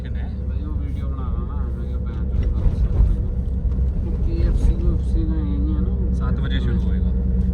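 A Suzuki Jimny with a wobbling issue drives through Manali traffic, its engine and road noise forming a steady low rumble inside the cabin while people talk over it.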